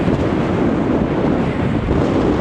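Strong wind on the Blackpool promenade buffets the microphone in a loud, continuous roar with no voices.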